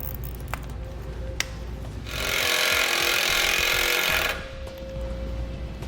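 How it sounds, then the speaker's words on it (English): A self-tapping number 12 screw is driven into the steel box frame of a 2015 Chevrolet truck by a power tool, giving a steady, loud whirring grind of about two seconds midway through, set against a quieter background. "since we've got the box frame here, I'm going to use a self-tapping screw."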